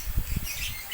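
A lovebird lets out a few short, rough squawks close by, with faint fluttering in between, then quiets down.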